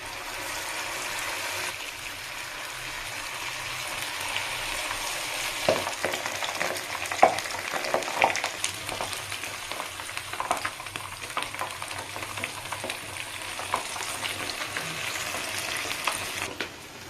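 Eggplant slices sizzle and fry in hot oil with a steady crackling hiss throughout and occasional louder pops and bubbles, close and without speech.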